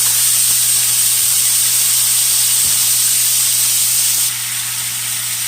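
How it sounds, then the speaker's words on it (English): Ground beef browns in a pan with a steady, loud sizzling hiss that holds without a break, easing slightly toward the end, with no talking. "first thing we're going to do is brown some ground beef"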